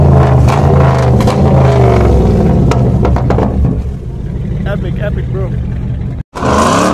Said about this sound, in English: It's a Camaro V8 sound.